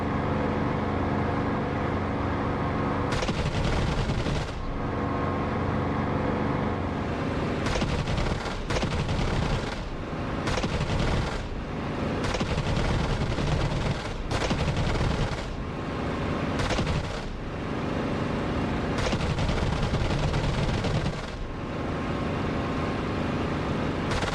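Repeated bursts of 7.7 mm machine-gun fire from a warplane in the DCS flight simulator, loud rattling volleys over a constant engine drone, starting and stopping several times.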